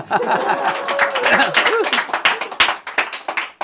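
Listeners clap after a man sings a song, with brisk, close clapping mixed with laughter and chatter that thins into scattered claps toward the end.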